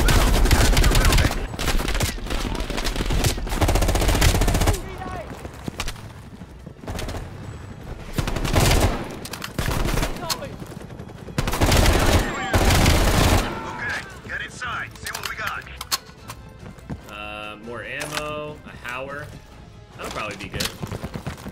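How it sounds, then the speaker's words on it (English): Rapid automatic M16 rifle fire in the Black Ops Cold War campaign, loud bursts crashing in repeatedly over the first half, then thinning out amid game effects and a voice talking. "This is an automatic M16."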